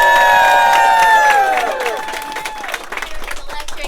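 A crowd at a Chamber of Commerce event in Woodford County cheers loudly and applauds, with shrill whoops and shouts up front fading into sustained clapping.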